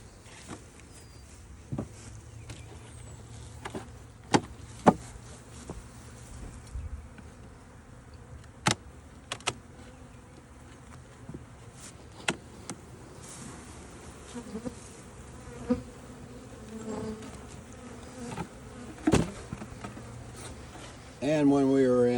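Honey bees buzz around an open hive as it is split for virgin queens, a soft continuous hum with scattered individual bees passing close by, plus sharp taps and handling clatter.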